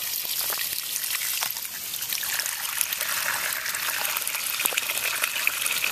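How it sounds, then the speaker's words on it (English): Fresh water pours steadily into a pet rabbit's water container outdoors in the heat, a continuous close trickle and splash lasting several seconds with no talking. "Getting some new water."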